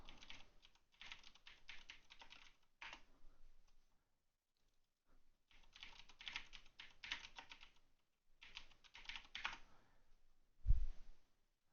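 Typing on a computer keyboard while entering a capacitor's type during an electronics stocktake; several close bursts of rapid key clicks separated by short pauses, ending with a single low thump.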